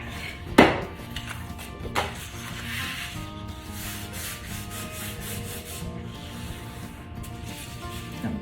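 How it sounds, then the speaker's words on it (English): A tool rubs and burnishes scored paper flat on a mini album page, a close, soft scraping friction with one sharp tap near the start and steady rubbing after. "burnish that down"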